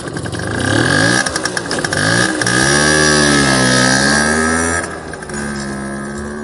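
A scooter engine runs loud and close, revving up and down in uneven bursts as it pulls away, with the pitch rising and falling before the sound drops somewhat near the end.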